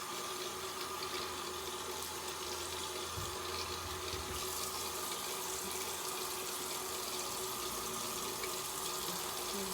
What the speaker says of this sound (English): now I'm gonna just rinse this off